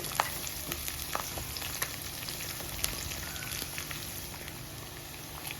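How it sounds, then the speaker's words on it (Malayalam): Ginger and garlic sautéing in a pan for a Kerala-style bilimbi pickle, a soft steady sizzle with faint crackles and occasional light clicks, close and quiet with no voices. "ഇഞ്ചി ചെറുതായി ഒന്ന് വഴന്നു വരുമ്പോൾ വെളുത്തുള്ളി ഇടുക"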